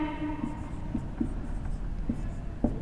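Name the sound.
writing a 2 variable K-map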